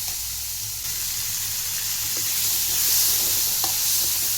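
Green turkey berries fry in hot oil with a steady, close sizzle and hiss that swells slightly toward the end, with a few soft clinks of stirring.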